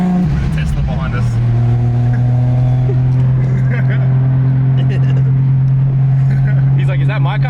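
A loud car engine holds a steady droning tone after a quick rise in revs, heard up close throughout during a drive alongside an 1100hp manual Barracuda.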